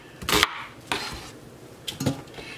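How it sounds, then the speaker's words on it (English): Chopped celery and onion are tossed into a cooking pot, giving three separate clattering thuds of vegetables and utensils against the pot, each short and sharp, close by with quiet gaps between. "And we're tossing it all in the same pot."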